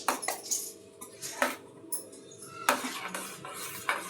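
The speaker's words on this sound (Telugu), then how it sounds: "ఇట్లా బాగా కలుపుకోవాలన్నమాట" A spoon stirs a bread and milk cake batter in a bowl, sending repeated metallic clinks and scrapes at an irregular pace, close and fairly clear with no voices.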